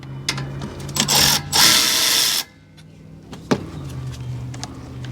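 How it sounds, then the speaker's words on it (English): A Milwaukee cordless impact driver whirs in short bursts, then a longer loud run, removing brake bolts from a Toyota Camry, with metallic clicks and workshop noise around it. "I'm just going to zip these out with the Milwaukee"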